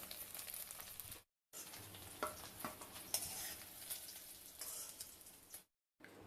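Egg cubes fry in oil while being turned on all sides, a soft sizzle with light scraping and clinking of a utensil, broken by two brief silent gaps, no talk.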